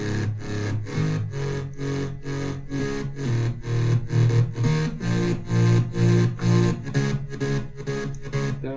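A dance track fed through a drive distortion plugin that adds harmonics, pulsing rhythmically with loud repeating chords and a steady beat, thick and saturated, with no talking.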